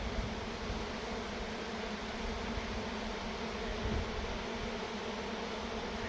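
A steady, dense buzzing of many honey bees around an opened hive with its boxes removed fills the clip, soft and continuous with no pauses.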